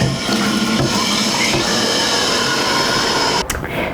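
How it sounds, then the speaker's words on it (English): Hot water gushes steadily from a tap into a bath, a loud continuous broadband rush with little change in level throughout. "now time to turn on that hot bath so we can add our bath salts"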